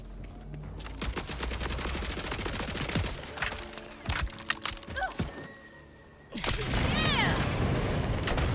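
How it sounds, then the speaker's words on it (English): Rapid bursts of gunfire from a weapon in Borderlands-style shooter play as Harlowe, dense repeated shots for several seconds, then a pause and a loud explosive burst with whooshing effects. "This gun went off, didn't it?"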